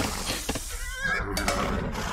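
A scout cavalry horse in the Age of Empires 2 video game gives a short neigh, heard among continuous game sounds at a steady level.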